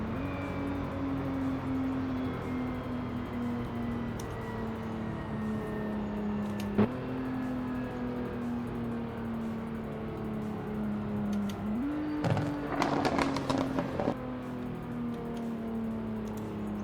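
Maserati Ghibli engine slowing down through downshifts, a steady droning tone that steps down, with a sharp blip at a shift and a rising rev burst with crackles near the end.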